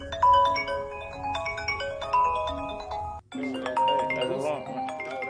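A phone ringtone plays a repeating melodic chime over music in the background, with a brief cutout midway before the ringing tune continues, fairly loud and close.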